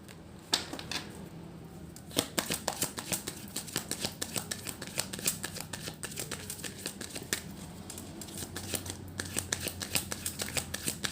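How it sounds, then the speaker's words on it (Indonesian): Playing cards shuffled and drawn from a deck for a tarot-style relationship reading, a steady run of crisp flicks and riffles close by, quiet throughout with no talking. "Saya keluarkan 3 kartu."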